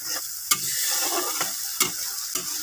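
Spices and yogurt fry in a kadai for an Assamese jackfruit seed curry, a steady close sizzle broken by several sharp scrapes and knocks of a stirring spoon against the pan.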